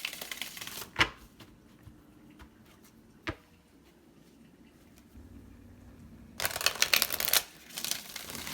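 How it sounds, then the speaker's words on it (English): Tarot cards riffle in a dense, rustling burst near the end, after a quiet stretch with a few sharp taps and soft handling sounds. The shuffling is close and fairly loud, with no talking. "One more shuffle."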